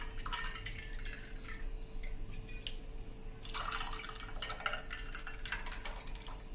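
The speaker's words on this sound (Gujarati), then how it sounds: "આપણે ઉપરથી એને ઠંડુ પાણી રેડી દેશું" Cold water pours onto fennel sherbet in a glass, a quiet trickle and splash that starts, pauses, then returns fuller with bubbling drips.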